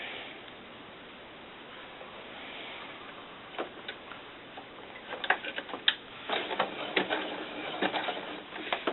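A sewing machine zigzag stitching a doll cover-up, starting with a soft hum and then breaking into rapid ticking and clattering bursts of needle strokes, close and moderately loud with no talking.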